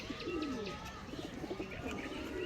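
Soft racing pigeon coos repeat in a low, rolling murmur over a steady background hiss, with faint chirps mixed in.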